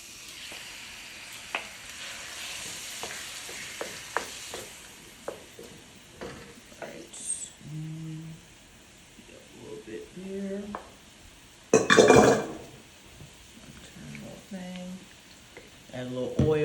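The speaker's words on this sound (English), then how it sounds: "I'm gonna go ahead and throw in my shrimp, add a little oil to it" Shrimp frying in oil in a pan, a steady sizzle with scattered clicks and stirring scrapes, a louder burst of crackling partway through, and some talking over the cooking.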